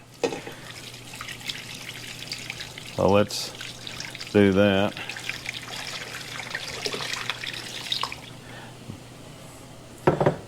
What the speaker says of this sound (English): we're going to put 3 quarts of water in each pot